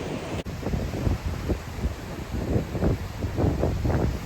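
Wind roars into the microphone while ocean waves surge and wash in a continuous, rough rush with irregular swells, on a coastal point after Hurricane Ian.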